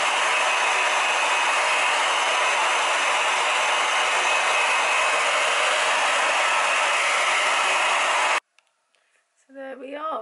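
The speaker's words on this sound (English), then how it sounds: "We are blow dried straight in no time at all." A hair dryer blows hair straight with a loud, steady broadband whoosh that runs unbroken for about eight seconds, then cuts off abruptly, leaving near silence followed by a brief faint sound.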